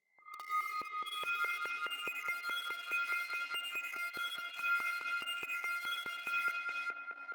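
Layered synth arpeggio in FL Studio treated with a Rift plugin, a rapid, steady run of bright notes with added echo and a fuller, noisier wash behind them, heard alone at moderate loudness.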